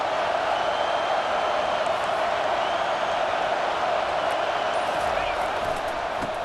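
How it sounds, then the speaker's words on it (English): A stadium crowd roars steadily and loudly in EA Sports College Football 25, a continuous dense wash of cheering with a commentator talking over it. "the crowd coming to life here trying to help this defense down in the red zone"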